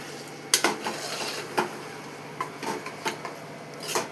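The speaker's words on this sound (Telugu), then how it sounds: "అడగంటకుంటా మంచిగా కలుపుకోవాలి." A spoon scrapes and knocks around a cooking pot of curry in irregular strokes, close and clear over a faint simmering hiss.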